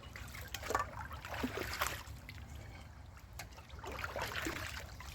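Water sloshes and trickles in a stainless steel skillet while it is rinsed out outdoors with mud, stones and grass as an abrasive, in a couple of close, uneven splashing bursts.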